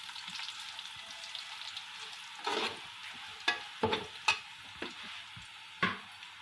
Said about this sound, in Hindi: ज़ीरा काला, तेज़पात, इन्हें हल्का सा फ्राई कर लेंगे।